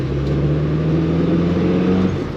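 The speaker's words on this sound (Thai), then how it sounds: "ให้ผมขับไปเพื่อๆดูอีกรอบ อัตราการเร่งดีอ่านี่เกียร์สอง" Toyota Corona RT61 Mk2 classic car pulling hard in second gear, a steady, droning engine note heard from inside the cabin, loud and close throughout with no talk.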